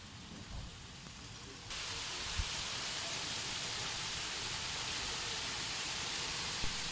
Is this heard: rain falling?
yes